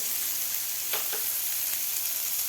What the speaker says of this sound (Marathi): एक ते दीड मिनिट आपण पनीर फ्राय करून घेतलेलं आहे